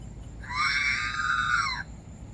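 A single drawn-out, squealing electronic wail rises and bends for over a second over a low background hum, the upset sound of a remote-control R2-D2 droid toy.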